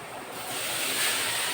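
Water sprinkled lightly onto greens cooking in a hot pan gives a steady, dense hiss that swells slightly and continues throughout, with no voices.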